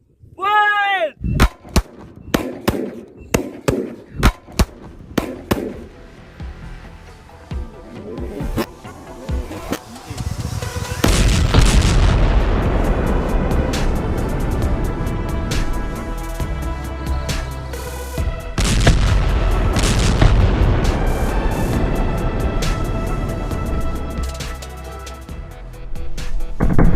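Sky shot fireworks packed with color powder, set off outdoors for a Republic Day celebration: a rapid string of sharp launch cracks, then loud booming bursts and crackling that swell into a sustained roar of repeated explosions.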